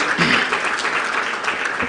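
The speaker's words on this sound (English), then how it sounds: "Another round of applause." An audience at an internet governance forum in Rwanda gives a short round of applause, fairly loud and steady, with a few voices mixed in.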